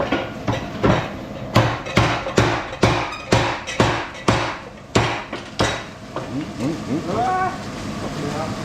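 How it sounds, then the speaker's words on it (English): A big mechanical power hammer pounds hot steel while forging an axe head at a blacksmith's forge, a fast series of loud, evenly spaced ringing blows, with a voice heard briefly near the end. "here's the power hammer, this beast."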